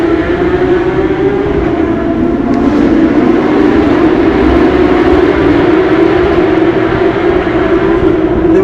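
V10 engines give a loud, sustained droning howl at a steady pitch, like high-revving race engines passing nearby, and it holds through the whole stretch with no talking.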